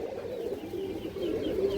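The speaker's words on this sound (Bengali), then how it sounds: "একটা মুসলমান নর কবুতর আছে" An old male Muslim-breed pigeon with a boot-shaped beak coos in a steady, low, rolling murmur that runs continuously and close by, with no talk over it.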